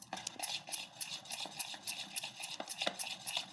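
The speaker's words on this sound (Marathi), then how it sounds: "चांगलं मिक्स करून घ्यायचं, म्हणजे इनो आता मिक्स झाला पाहिजे त्याच्यामध्ये।" Spoon stirring dhokla batter with Eno mixed in, a steady run of soft scraping and clinking strokes against the bowl, close and fairly quiet with no talking.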